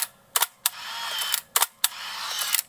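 A Hasselblad 553 ELX medium format camera fires twice up close, each time a sharp mechanical clack of mirror and shutter followed by the whirring hum of the built-in motor winding the film on.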